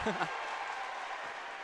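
Roaring student section crowd at a girls high school state basketball game, Rogers fans filling the stands; a steady, loud wash of cheering and applause that holds through the whole moment without dropping.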